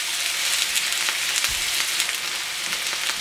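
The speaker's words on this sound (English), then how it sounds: "I'm gonna throw them right into that hot oil in the pan here" Flanken-cut beef short ribs sear in hot oil in a pan, giving a steady, loud, dense sizzle with faint crackles throughout and no voices.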